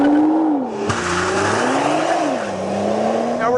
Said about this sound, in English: it means hitting a few switches, planting the brake with your left foot, mashing the gas with your right